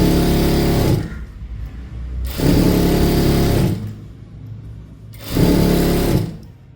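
A sewing machine runs in three bursts of a second or two each, separated by short pauses, as churidar pant fabric is stitched. The motor whirs loud and close, with no voices.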